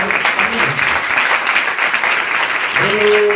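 Loud, dense applause from a church congregation honoring the Lord during a Hindi-language sermon, with a voice rising briefly near the end.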